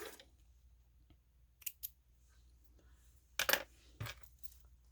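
Scissors snip sewing threads while a fabric pouch is being made, a few short, sharp cuts spaced apart against a quiet background.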